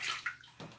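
Water splashes in a bathtub while a ferret is bathed, a brief faint slosh with a couple of small splashes.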